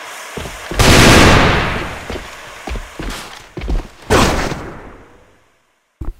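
In a competitive AVA match, gunfire sounds as loud, sharp bursts and single cracks with reverberant tails, several shots spread unevenly over a few seconds, with scuffs of footsteps in between before a brief silence.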